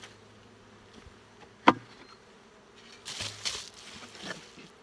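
Honey bees buzz at an open hive during spring brood nest work, a low, faint drone with a sharp knock partway through and brief louder buzzing passes near the end.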